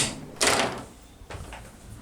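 A light hotel bathroom door swings shut with a sharp near thud, then a second softer knock or latch click follows about a second later in a quiet room.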